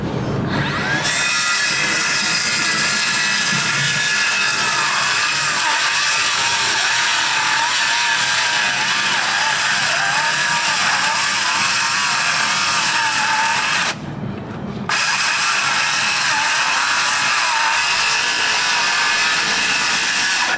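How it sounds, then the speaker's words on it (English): A Makita 36-volt circular saw with a 7¼-inch blade cutting steadily and loudly for about twenty seconds in cold weather, with one brief pause near the end before the cut resumes. "I got the Makita 36-volt left-hand blade. Let's see how we do."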